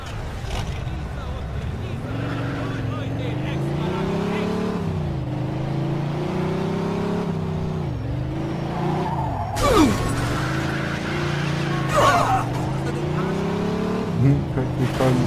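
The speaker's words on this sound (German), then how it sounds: "Da haben wir eine verdammt schnelle Karre." A fast car in the video game Mafia 2 roars along, its engine droning and rising and falling through the gears, loud and continuous, with brief tire skids and revs near the end.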